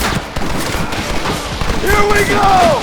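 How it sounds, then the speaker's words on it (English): Rapid sustained Gatling gun fire in Red Dead Redemption, a dense continuous burst of shots close and loud, with a voice calling out over it near the end. "You man the Gatling gun, Marston!"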